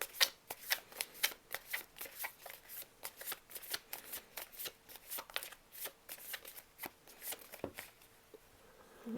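Tarot cards being shuffled by hand for a reading, giving soft, close riffling and flicking at a steady, quick rhythm that continues for several seconds and tapers near the end.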